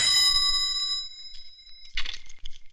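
An electronic home phone ring chimes for about a second with bright tonal partials, fades, then a short clattering handling noise follows as the receiver is picked up.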